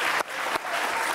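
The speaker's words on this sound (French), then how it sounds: "on peut lui faire un tonnerre d'applaudissements" A studio audience gives a guest a burst of loud, dense applause that stays steady throughout.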